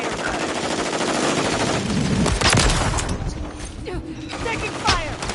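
Gunfire in Modern Warfare 3: bursts of machine-gun and rifle fire crackle and rattle continuously, with sharp impacts and mechanical clatter, while shouted voices come through over the shooting.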